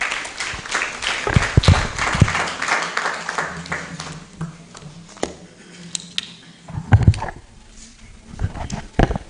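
An audience at a youth conference breaks into applause, a burst of clapping that swells, thins out, then rises again briefly, heard from within the hall with some faint voices mixed in.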